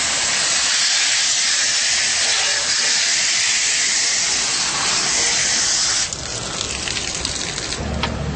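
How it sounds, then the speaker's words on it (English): A garden hose sprays water hard onto the inside of an air conditioner's condensing coil, a loud continuous hiss that shifts and thins slightly near the end; no speech. "just keep hosing the inside of this coil"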